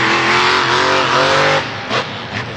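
A 1,500 horsepower monster truck giving rides roars loudly, its engine revving and then dropping off, with a brief word spoken over the top.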